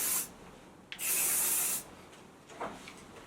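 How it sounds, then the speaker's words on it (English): Hair spray misted through hair in two quick hisses, a short burst followed by a longer steady spray, close and crisp, with a soft rustle of hair afterward. "start spraying through it"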